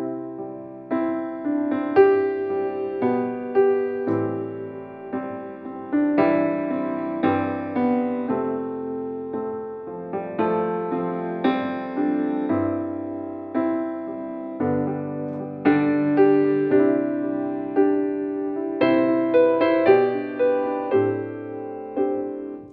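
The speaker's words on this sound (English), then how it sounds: "Next, we have the Vintage Decatree, so it gives you a vintage piano sound." A VSL Synchron Blüthner sampled piano on its vintage microphone position plays a continuous melodic passage of chords and single notes, clear and close with natural decay, no voices.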